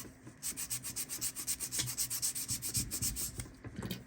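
Plastic body of a Maisto Chevy model car being sanded by hand, a close, rhythmic series of about twenty scratchy rubbing strokes in steady back-and-forth rhythm with no voices.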